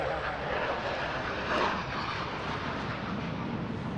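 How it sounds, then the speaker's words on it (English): An F-16 fighter jet flies overhead with a steady, loud, broadband roar that fills the whole stretch and swells slightly near the middle as it passes. "Interrupted by an F-16."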